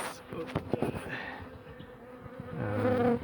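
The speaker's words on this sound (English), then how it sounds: "all the bees are in the box" Dense, steady buzzing of many honeybees close by in a hive box, a continuous hum that swells slightly toward the end.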